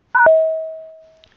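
One clean electronic prompt tone sounds on a phone voice-assessment line, a short sharp onset followed by a steady pitch that fades out over about a second in silence.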